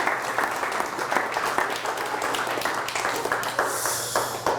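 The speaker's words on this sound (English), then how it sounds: "let's all give Elizabeth a nice round of applause" An audience applauds steadily throughout, a dense patter of many hands clapping at moderate volume.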